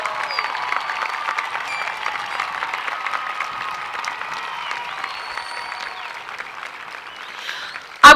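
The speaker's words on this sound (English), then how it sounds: "please join me in a round of applause for your parents and their families and your guardians" A large graduation audience applauds for parents, families and guardians, a steady dense wash of clapping that holds evenly for several seconds before a sudden loud bump at the very end.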